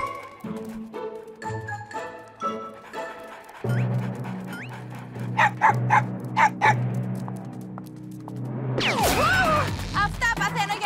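Dogs being taken outside bark in a short series of sharp yaps midway, mixed with animated cartoon voices talking and music, followed by a rising squeal at the end.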